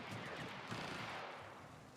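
Rapid gunfire in a competitive battle royale-style video game match, a dense stream of automatic shots with a heavy burst near the middle, continuous and moderately loud with no talk.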